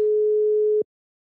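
A telephone line gives a single steady electronic tone during a call. It holds evenly for under a second and then cuts off abruptly, clear and alone with no voices.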